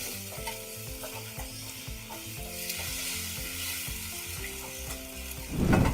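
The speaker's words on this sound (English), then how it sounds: "So let's get our eggs nice and scrambled." Eggs for a bacon and egg quesadilla are stirred and scrambled in a hot pan, a close, continuous sizzle with scraping, ending in a louder burst of frying.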